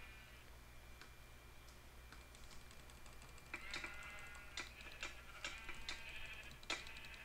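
Sheep in the Minecraft mini game Sheep Quest bleat over a steady low hum, a scatter of short clicky game sounds and bleats growing busier in the second half.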